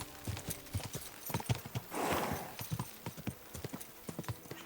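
Horse hooves clip-clopping at a steady walk in the video game Kingdom Come: Deliverance II, a rhythmic series of close, soft thuds with a brief whinny-like breath midway.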